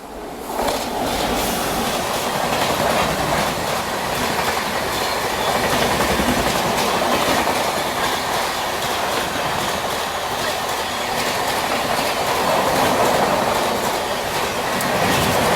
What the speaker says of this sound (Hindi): ये देखिए सामने से अच्छी खासी रफ्तार में ट्रेन आ रही है